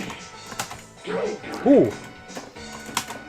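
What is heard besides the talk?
clacking keyboard keys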